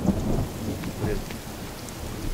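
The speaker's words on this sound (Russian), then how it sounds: "Ой, гроза." Rain pours steadily during a thunderstorm in a video game, with low thunder rumbling underneath. The storm is continuous and moderately loud, and no one talks.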